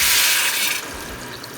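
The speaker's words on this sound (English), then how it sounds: "And then I'm going to put some water." Water runs steadily into a soup pot for Japanese pork miso soup (tonjiru), a bright rushing pour that is loud at first and then softens as it continues, with no talking.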